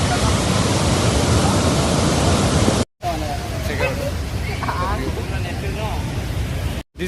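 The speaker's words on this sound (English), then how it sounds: "this is the water which is coming from the top, and this is a small stream" Water rushing down a small stream below the Dumboor lake dam in Tripura, a loud broadband roar that fills the first few seconds, then continues more softly under voices talking.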